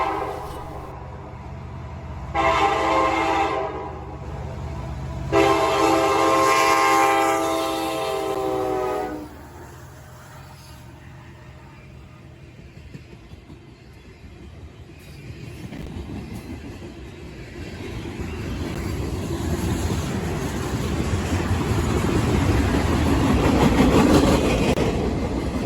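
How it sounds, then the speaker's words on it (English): CSX freight train M364 passes close by, sounding two loud horn blasts with a harmonic tone, then the heavy rumble and clatter of cars rolling past, building toward the end. "The very next day we catch CSX M364 with CSX's brand new Operation Lifesaver Mac."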